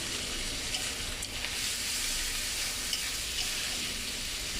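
Dried fish frying in a spiced masala of onion and potato gives a continuous close hiss and crackle with small pops, even and unbroken, with no talk.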